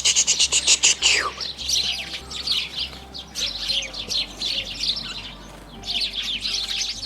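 Sparrows chirp in a city park, a flock of quick, bright tweets in busy overlapping bursts, fairly close and steady throughout with no voices.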